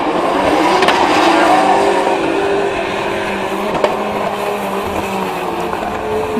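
A drift car at the French Drift Championship 2022, its loud engine revving with tire squeal as it slides, a continuous near roar with brief sharp peaks.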